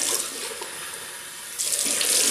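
Water runs from a bathroom tap while a Merkur 45 Bakelite double-edge razor is rinsed, a steady close splashing stream that surges louder toward the end, with no talking.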